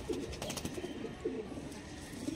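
A female zeria dobaj pigeon cooing at an outdoor pigeon market, giving several soft rolling coos in a loose rhythm, close by, over a low murmur of background chatter.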